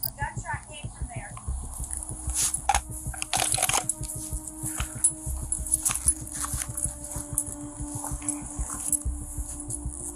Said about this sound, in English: there was no sound except for the dog barking